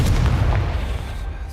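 In the video game Hogwarts Legacy, the Confringo spell sets off a fiery blast: a single deep, heavy boom that rolls out and fades over about a second.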